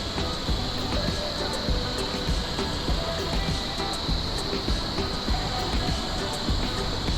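The Jang waterfall in Arunachal Pradesh gives off a steady, even rush of falling water, a moderate distant roar that stays constant throughout.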